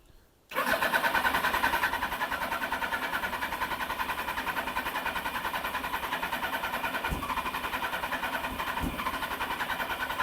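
Suzuki GSX1100 motorcycle engine cranking with the choke on, catching after a half-second of quiet and then running with a loud, steady, rough idle throughout.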